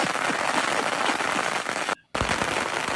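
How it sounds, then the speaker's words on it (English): Loud, rapid-fire July 4th firecrackers and fireworks rattle in dense overlapping bursts like gunfire, with a sharp momentary cutout before the crackling resumes. "Fireworks are loud."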